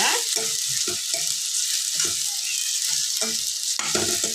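Prawn fry is stirred in a pan, a spatula scraping in quick repeated strokes over a continuous hiss of sizzling, close and fairly loud.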